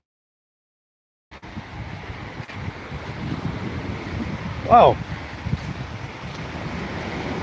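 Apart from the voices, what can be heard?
ocean waves and strong wind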